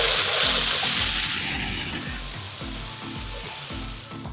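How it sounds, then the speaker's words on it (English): Drained potatoes hit a hot pan with a loud, bright sizzle that stays strong and close, then settles slightly while a steady rhythmic clatter pulses underneath. "Now let's introduce these potatoes to some heat."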